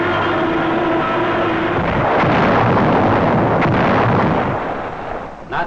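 Wartime artillery counter-battery fire from German coastal gun batteries near Westkapelle gives a loud, continuous rumbling roar with heavy booming swells and no voices.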